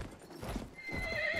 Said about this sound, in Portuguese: Primeira vez que pega um cavalo aqui.